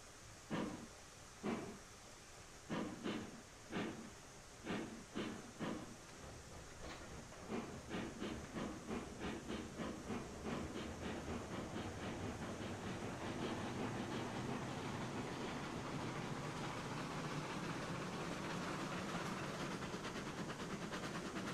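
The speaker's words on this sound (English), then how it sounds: "Do that to get the train moving." Steam locomotive in Railroads Online starting to move: slow chuffs begin widely spaced, then quicken into a steady rapid puffing rhythm under a rising hiss of steam.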